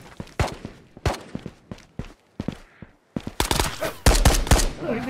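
Gunshots in the video game Ghost of Tabor ring out as a few sharp, separate cracks, then a brief quiet, then a loud, dense flurry of rapid shots near the end.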